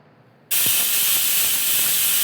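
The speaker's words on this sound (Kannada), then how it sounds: "ಎರಡು ವಿಜಿಲ್ ಸಾಕು ಕುಕ್ಕರ್ಗೆ" After a brief quiet moment, a loud steady hiss of steam bursts from a pressure cooker whistle, with vegetable pulao cooking in a steel vessel inside, continuing without break.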